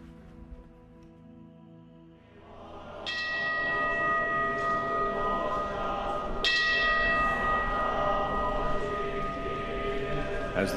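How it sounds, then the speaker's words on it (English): Temple bells in Kyoto ring out over a quiet evening neighborhood: two loud, resonant strikes a few seconds apart, each leaving a long shimmering hum that fades slowly. "the neighborhoods resound to the chanting of sutras and the ringing of temple bells"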